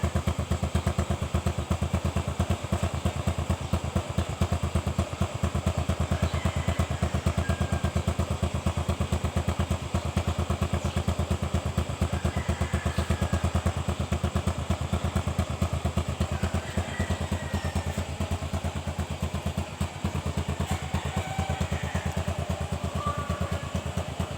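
A nearly 14-year-old motorcycle, a 2012 model with a weak battery, idles close by in a steady rattling, chugging run that stays even and unbroken throughout, with faint clatter over the engine drone.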